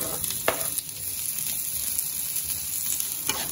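Garlic and onion sautéing in a pan for pata tim, a dense continuous sizzle with a few sharper spatters and stirring scrapes, close and steady throughout.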